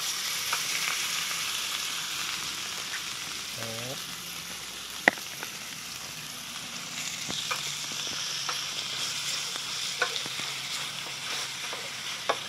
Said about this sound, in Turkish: Eti döküyorum.